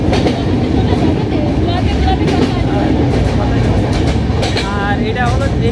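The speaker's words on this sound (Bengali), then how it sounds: "ট্রেন ঠিক মতন সময় ছেড়ে যাচ্ছে" Passenger train heard from inside a carriage on a Khulna to Godkhali journey, a loud continuous rumble with rhythmic clickety-clack of wheels and faint squeals, constant throughout.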